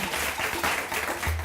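An audience applauds the final number at a French-language lottery draw, dense, steady clapping that fills the short moment without pause.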